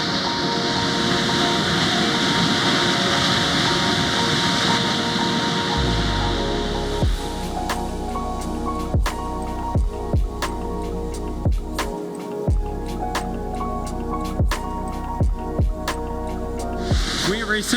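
Roar of a large waterfall at Twin Falls, Idaho, a loud steady broadband rush throughout, joined midway by a lower rumble and repeated sharp clicks or knocks over the continuous roar.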